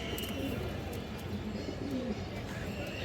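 Green female Gola pigeons of high quality coo softly and steadily in a loft, blending with a low murmur of other birds close by.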